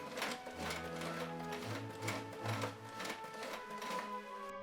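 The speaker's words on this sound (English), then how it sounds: "I didn't even touch the pedal, only rotated the hand wheel." A sewing machine worked slowly by its hand wheel while sewing a porcelain ball-jointed doll's lined garment piece, giving a steady, close mechanical whirr and tapping of the needle with rhythmic pulses and no talking.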